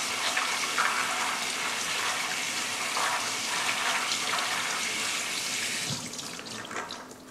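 Tap water runs steadily over soaked nuts being washed and drained in a kitchen sink, a close, continuous broadband rush that eases and thins slightly near the end.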